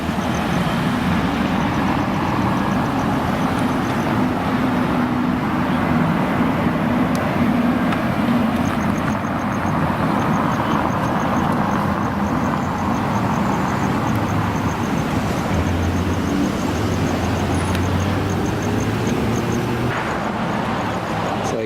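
Cars pulling into a parking area, including a dark Mercedes with tinted windows, give a steady low rumble of engines and tyres at moderate distance, broad and continuous throughout with no talk.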